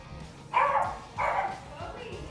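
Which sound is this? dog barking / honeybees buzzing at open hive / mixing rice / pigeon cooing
dog barking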